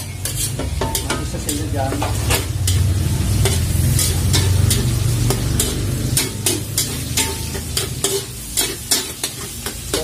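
Beef tapa is stir-fried in rendered beef fat with garlic, onion, bay leaves and pepper, giving a loud, continuous sizzle with rapid spoon scrapes and clacks against the pan. A voice speaks briefly over the cooking.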